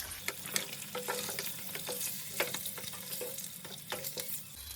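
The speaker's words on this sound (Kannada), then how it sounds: "ಸೊ ನೋಡಿ, ಎಷ್ಟು ಚೆನ್ನಾಗಿ ಫ್ರೈ ಆಗಿದೆ." Eggs frying in oil in a pan for egg curry, a steady crackling sizzle with frequent sharp pops and scraping stirs, close and continuous with no talking.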